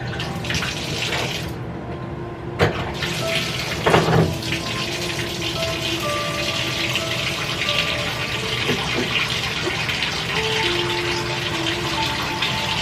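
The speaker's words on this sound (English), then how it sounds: "let me run this bath water, okay?" Bath water pours steadily from a tap into a tub, a continuous close rushing splash that fills the whole stretch with only a couple of brief knocks.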